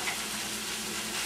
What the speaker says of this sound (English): in goes the chicken. You gotta love the sizzle.